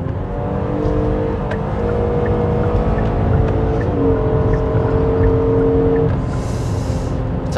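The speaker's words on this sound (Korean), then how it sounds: "그랜저에서 이 정도의 엔진 소리를 듣게 될 줄은." A Hyundai Grandeur engine pulls hard at highway speed in third gear near 4800 rpm, a thick steady drone with rising harmonics, shifting pitch around midway and continuing under road and wind rush.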